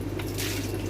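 An aquarium sponge filter is gently squeezed and rinsed under water, giving a short soft squish and drip over a steady low hum.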